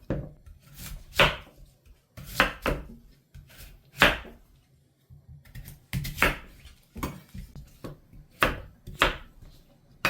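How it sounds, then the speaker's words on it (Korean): A knife chops radish into large kkakdugi cubes on a cutting board, with sharp knocks in quick bursts of two or three separated by short pauses, close and clear with no talking. "무 다섯 개를 깍두기로 썰어줄게요."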